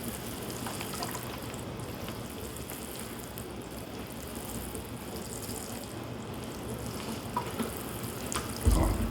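Water pours steadily onto the soil and small stones around a freshly transplanted acerola plant, a continuous close splashing and trickling that lasts throughout, with a slightly louder gush near the end.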